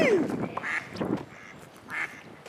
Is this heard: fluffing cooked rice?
no